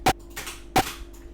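Two punchy hardstyle kick drum hits land about 0.7 seconds apart, each a sharp, loud transient with a short distorted tail, played alone.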